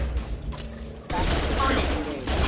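Dense gunfire bursts from weapons in the video game Mass Effect 2, a loud sustained fusillade with a brief lull before the firing swells again.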